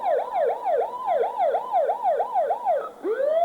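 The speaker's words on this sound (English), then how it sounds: "That noise, that sirens you hear" A vintage siren wails in a steady, repeating up-and-down cycle at a 1988 village festival parade. It sounds loud and close with no talk over it, then swoops into a long rising sweep near the end.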